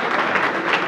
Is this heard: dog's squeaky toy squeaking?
no